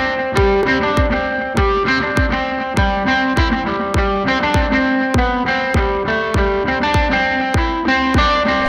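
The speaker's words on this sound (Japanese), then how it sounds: "こちらも DAW 付属のアンプシュミレーターのプリセットを使っています。" Programmed rock guitar played through a stock DAW amp-simulator preset, distorted chords struck in a steady rhythmic pattern with sharp repeated attacks over sustained tones, loud and close with no voices.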